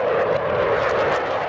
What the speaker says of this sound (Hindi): विमानों का हैरत अंगेज फॉर्मेशन, 3 विमानों का बेजोड़ कॉम्बिनेशन